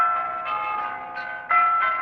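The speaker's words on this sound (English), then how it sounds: "Listen to those bells" Historic bell tower bells ring out in a steady sustained peal, with fresh strikes swelling every half second or so, the ringing tone holding bright and continuous throughout.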